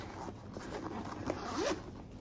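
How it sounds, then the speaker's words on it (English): A zipper closes a bag filled with Disney Stitch pins, close up, a rasping pull of about two seconds ending in a short final tug, with no talk. "let me zip this up."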